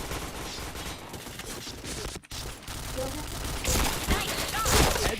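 Rapid bursts of gunfire from a shooting video game crackle through a dense, loud mix of game effects and music, with a louder flurry toward the end and a voice talking over it.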